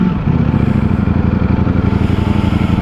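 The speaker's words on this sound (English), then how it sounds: "The 2023 Ducati Streetfighter V4S is the best bike" A 2023 Ducati Streetfighter V4S motorcycle engine runs at a steady loud idle with a close, pulsing rumble, alone without voices.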